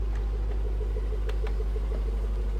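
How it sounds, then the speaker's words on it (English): A 2021 Range Rover Sport SVR with a 5.0 V8 idles at a steady, deep low rumble, with faint ticking clicks on top and no talk. "that car, even though it's ticking over now, they just sound aggressive"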